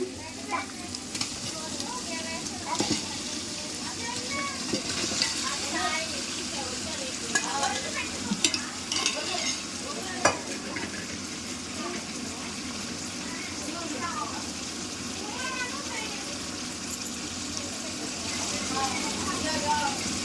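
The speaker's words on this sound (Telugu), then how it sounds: "పెరుగు సాల్ట్ కలిపి పెట్టుకున్న మటన్ ఇప్పుడు వేసేస్తున్నామండి" Mutton marinated in curd and salt sizzles and crackles in a frying pan with stirring sounds and occasional clatter, under a person talking for the whole stretch.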